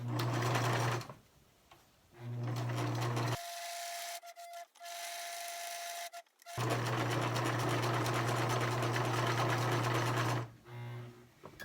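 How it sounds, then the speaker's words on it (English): A sewing machine runs a tight, short-length zigzag stitch to seal fabric edges for a face mask, its motor humming and needle clattering in several bursts separated by short pauses, one longer quiet gap in the middle. "you can just do like a really tight zigzag stitch just to seal in those edges"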